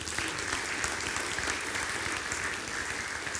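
A crowd applauds steadily, a dense wash of clapping that holds at an even level throughout.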